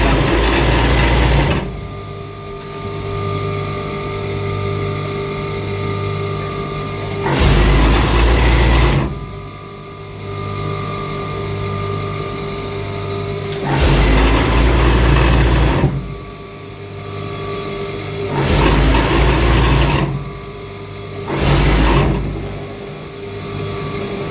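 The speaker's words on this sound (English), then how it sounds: "Still using my cover stitch machine, but this time around I'm not taping it. I'm just sewing the down part." A cover stitch machine hems the lower part of two-piece night wear, running in steady mechanical bursts that start and stop several times, loud and close with no talk.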